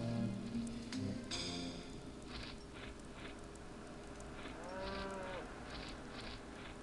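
Faint cattle lowing drifts from far off in the Western adventure game Al Emmo and the Lost Dutchman's Mine, a few soft drawn-out moos over a quiet hissing, rain-like ambient bed.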